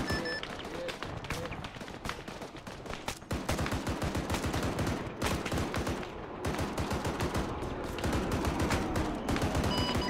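Rapid sustained gunfire and impacts from an air strike on an armed technical vehicle in Arma 3, loud dense bursts filling the whole stretch with faint voices underneath.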